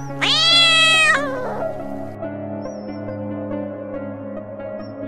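A cat lets out one loud, drawn-out meow close by, its pitch rising then falling into a shorter trailing cry, followed by a low steady background hum in an eerie night-time suspense story.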